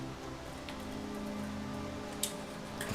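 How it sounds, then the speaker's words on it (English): A rain spell in the Divinity video game puts out a fire, giving a steady, moderate patter of rainfall with a few sharper ticks near the end. "I'll just remove the fire with some rain here"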